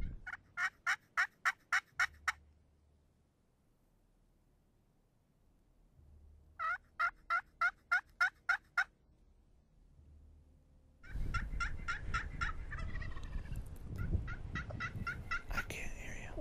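Turkey gobbles during a Nebraska spring turkey hunt: two bursts of rapid, evenly spaced gobble notes at mid distance, separated by quiet, followed by louder rustling and mixed bird sounds.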